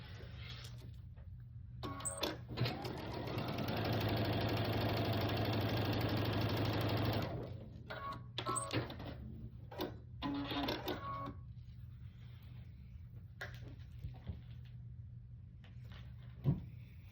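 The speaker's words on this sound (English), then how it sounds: "Sew across here." Home sewing machine stitching fabric pieces for a pumpkin door hanger: a few short whirring bursts, then one sustained run of rapid stitching lasting several seconds, followed by clicks and handling of fabric, close and fairly quiet.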